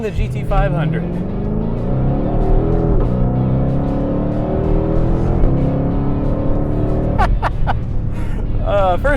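2020 Ford Mustang Shelby GT500 being driven, its engine note rising and falling through repeated revs and shifts from inside the car, with someone talking over it.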